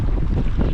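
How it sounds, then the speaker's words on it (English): Strong wind buffeting the microphone outdoors while fishing at an urban spot in Denver, a loud, dense, continuous low rumble with no other sounds. "This wind's kind of brutal"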